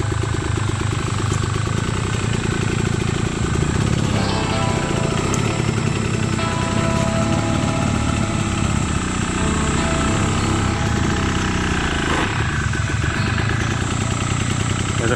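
Enduro dirt bike engine working up a very steep trail during a slow pivot turn, a loud, close, continuous buzzing drone that rises and falls with the throttle for the whole stretch.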